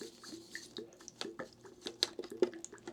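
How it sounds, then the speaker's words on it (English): Wet drips, squishes and splashes of water flushing through a plunger-operated paintbrush cleaner, irregular and close up, with no talking. "the neat thing is I can hit this plunger, flush the water"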